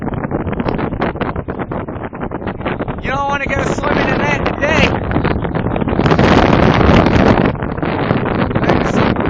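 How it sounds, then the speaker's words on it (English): Strong, gusty wind roars across a stormy seashore with rough ocean and blowing sand, a loud continuous buffeting that surges and swells, while someone talks over it close to the microphone. "There's some crazy wind."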